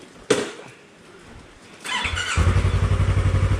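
A courier's motorcycle engine on a rainy evening is revved after a sharp click, then settles into a loud, close, steady idle with a fast regular pulse.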